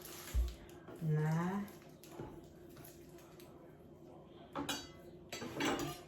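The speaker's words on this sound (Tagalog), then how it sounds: "Pero kailangan ko munang hugasan itong aking isda" Fish being rinsed in a home kitchen with no dishwasher: water splashing, and dishes and utensils clinking against each other in brief bursts, close and fairly quiet, with someone speaking now and then.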